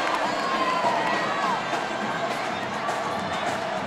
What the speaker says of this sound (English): the crowd being revved up by some acrobatics